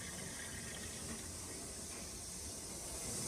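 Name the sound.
toilet cistern refilling with water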